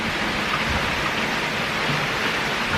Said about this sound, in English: Trying to sit here in the rain and just get soaked and vlog.